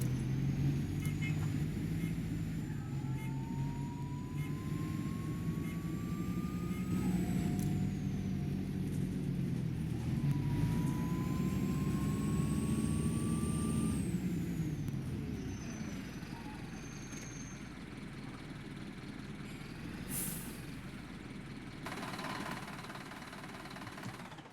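Optare Solo M850 bus in the OMSI 2 driving simulator, a steady engine drone with shifting whine as it accelerates and slows, fairly loud and continuous throughout, with no talk.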